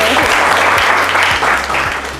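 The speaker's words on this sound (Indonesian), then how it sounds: "Tepuk tangannya mana?" An indoor audience at a university teaching session claps together in a dense, steady burst of applause, close and loud throughout, with low tonal hum in the room beneath it.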